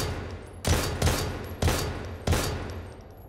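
Four loud gunshots from a firearm in the survival horror game Daymare 1998, fired at a steady pace roughly half a second to a second apart, each sharp blast ringing out over a low rumbling background.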